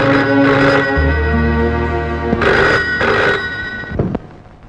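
An old-style telephone bell rings for an incoming call in a Telugu film scene, loud repeated ringing bursts with a brief pause between them, heard alone.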